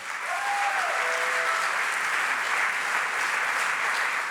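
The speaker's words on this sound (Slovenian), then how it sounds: "No, pa dajte še en velik aplavz." Big, sustained audience applause at a live concert show by a band at Terme Olimia, a dense steady roar of many hands, with a brief whistle near the start.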